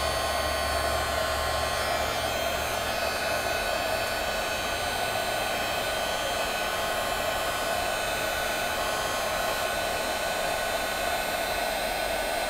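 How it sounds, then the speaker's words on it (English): A handheld heat tool blows steadily and loudly across the whole stretch as it melts embossing powder on white cardstock over a protective mat, a constant hair-dryer-like whoosh with no breaks. "now using my heat tool, I'm going to heat this up"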